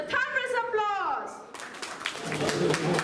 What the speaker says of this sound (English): So welcome them with a thunderous applause.